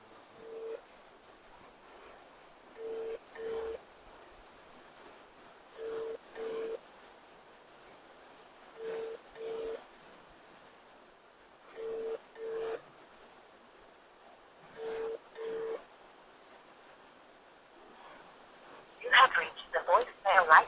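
An unanswered phone call rings out as a steady ringback tone: paired beeps repeat about every three seconds, seven times, clear against a quiet line, before a burst of noisier sound at the end.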